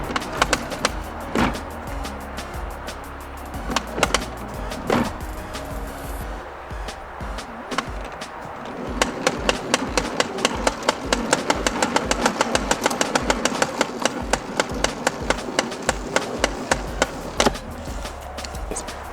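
A retractable garden hose reel winds the hose back in, a whirring mechanical drone with a fast train of clicking ticks building through the second half, close by and fairly loud.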